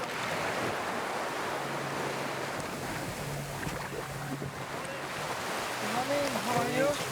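Pacific Ocean surf washes onto a beach in Vanuatu with a broad, steady rush of waves and wind buffeting the microphone, while voices talk faintly over it near the end.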